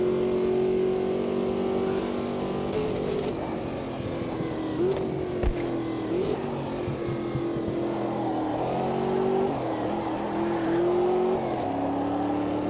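A race car engine in a racing sim video game drones steadily and close, its pitch dipping and climbing as the throttle is feathered and blipped, with no talk over it.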